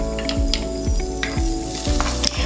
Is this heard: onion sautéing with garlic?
yes